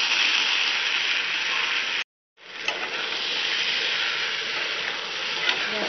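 Mixed vegetables fry with green chilli and salt for veg khichri, a loud, dense sizzle that breaks off for a brief moment of silence, then resumes with a few faint stirring scrapes.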